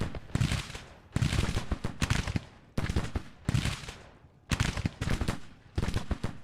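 Rifle volleys crack in repeated bursts during a Civil War battle in the strategy game Grand Tactician, each volley a loud, ragged cluster of shots followed by a short decay, about six salvos in quick succession.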